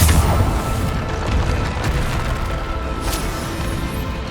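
A Bombarda blasting spell explodes in Hogwarts Legacy with a loud, deep boom that rolls off into a rumbling, crackling decay, followed by a sharp secondary burst near the end.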